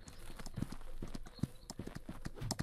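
Horse hooves clip-clopping in the HoldFast video game, a quick irregular patter of close hoof strikes over a soft rumbling background.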